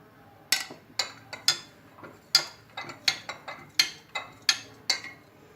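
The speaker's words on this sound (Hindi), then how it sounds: "और इसको मैं मिक्स करूँगी" A spoon stirs orange juice into cold water in a glass, giving a dozen or so sharp, close clinks against the glass in an uneven rhythm, with no voices.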